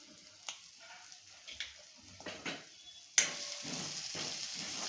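Masala with garam masala and coriander powder fries in oil for masala paneer: a faint sizzle with scattered stirring scrapes, which turns into louder, fuller frying partway through.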